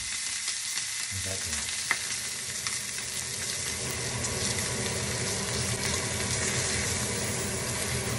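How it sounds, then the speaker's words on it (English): A pot roast sears in a hot pan with a loud, steady sizzle and crackle that fills the space, and a brief question is spoken over it. "Make sure you get it seared."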